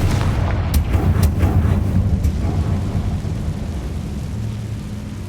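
A Confringo explosive spell blast in Hogwarts Legacy lands as a heavy, rumbling boom with a few sharp crackles at the start, then rolls off into a long, fading low roar.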